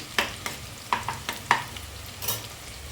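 Onions sizzle in a hot pan while being stirred toward golden brown, with several scraping strokes of a spoon or spatula at an uneven pace.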